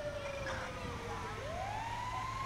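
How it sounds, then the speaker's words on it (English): Fire truck siren in Grand Theft Auto 5, a steady wailing tone that dips and then climbs again, heard clearly over continuous low game engine rumble. "Got a fire truck too,"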